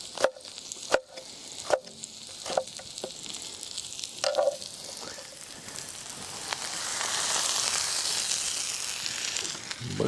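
Eggplant pieces are tossed onto a grill alongside zucchini and stirred, giving a steady sizzle that swells louder toward the end, punctuated early on by sharp clacks of utensils against the cooking surface.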